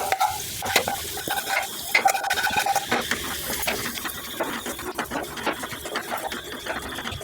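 A spoon stirs ground masala into chicken already frying in a pan for chicken thokku pickle, giving a steady scraping, sizzling texture with repeated sharp clicks of utensil on the pan, close and fairly loud throughout with no talking.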